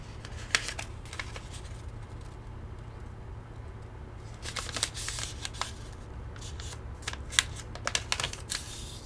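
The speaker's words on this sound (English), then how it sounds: "fold the sheet of paper in half diagonally" A sheet of paper is folded in half diagonally for an origami ribbon bow, heard as soft crinkling and brisk creasing swipes in a few short bursts over faint background hum, with no talking.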